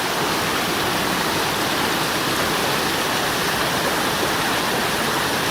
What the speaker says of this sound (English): There's a lot of current there, a lot of water, and it's a chore getting him out.